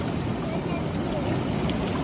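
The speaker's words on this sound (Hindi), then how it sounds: "ये बोट जा रही है" A boat moving on the river at Rishikesh, with a steady broadband rush of engine, water and wind filling the whole stretch, close and continuous, under faint voices.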